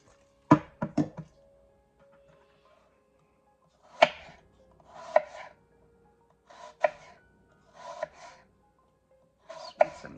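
A knife cuts thin apple slices for an apple pie, giving short chopping bursts in loose groups, each a few quick taps on a board, close and fairly soft, with no talk.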